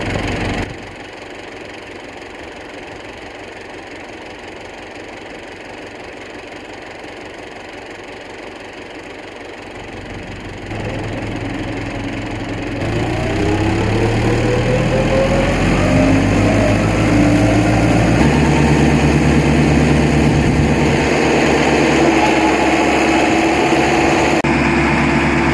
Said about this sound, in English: hook it to the generator, and then fire it up